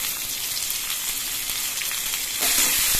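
Brinjal pieces fry in oil with salt and slit green chillies, a dense, loud sizzle that swells into a brighter, fiercer hiss toward the end.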